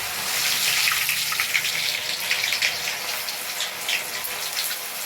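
Idli pieces frying in hot oil in a home kitchen for chilli idli, a steady loud hiss and sputter with fine crackling throughout, no voices over it.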